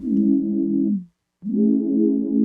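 A low synthesizer pad in Serum with portamento glide set to always on holds one note that slides downward as it fades, then after a short silence a second sustained note begins.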